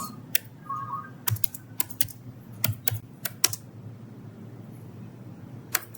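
Keystrokes on a computer keyboard while Java code is entered, sharp irregular clicks in short bursts with pauses between, close and fairly quiet over a low steady hum.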